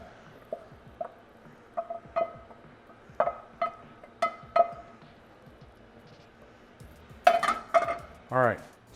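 A utensil knocks and clinks against a bowl or pan while ground chicken is being mixed, in a series of sharp taps that speed up and cluster toward the end, close and fairly loud.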